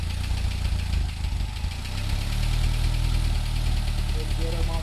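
Steady, loud drone of a 22 kW 380/220 V generator engine running close by, a low rumbling idle with rhythmic knocking throughout, while people talk faintly over it.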